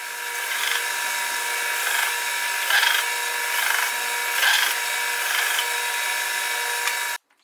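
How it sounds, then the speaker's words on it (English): A belt sander grinds dried epoxy off wood with a steady, loud abrasive whine that swells every second or so, then cuts off abruptly at the end. "I use the belt sander to sand the excess epoxy off"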